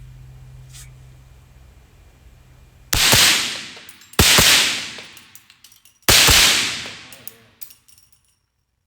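Three loud suppressed reports from a truck gun firing supersonic rounds, each a sharp crack with a decaying tail, spaced about a second or two apart, starting from a cold suppressor.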